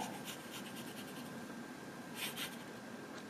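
A fountain pen, including a steel-nib pen, scratches faintly across paper as Japanese is written vertically, a soft continuous scratching with light strokes in a quiet room.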